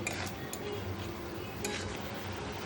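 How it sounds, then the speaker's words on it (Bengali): Spatula clinking against a pan while coconut paste is stirred with pointed gourd, scattered light metallic taps over a faint sizzle, close and fairly quiet. "নারকেল দিয়ে এবার একটু ভালো করে নেড়ে নেওয়া হচ্ছে"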